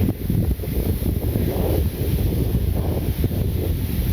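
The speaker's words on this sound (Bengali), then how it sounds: "এখন সুন্দর একটা বাতাস" Wind blows steadily across an open village, buffeting the microphone with a constant low roar and gusty surges, loud and without any voices.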